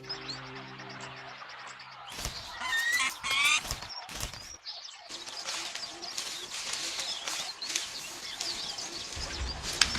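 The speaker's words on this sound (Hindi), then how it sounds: "लाल चोंच वाले ऑक्सपेकर पक्षियों की आवाज ने भैंसों के एक और झुंड के आने की सूचना दे दी है" Red-billed oxpeckers call out on the African savanna as a buffalo herd approaches, sending scattered sharp chirps and raspy notes in uneven bursts over a faint outdoor background, fairly close and intermittent.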